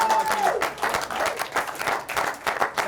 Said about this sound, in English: I want to clap it up for Keith.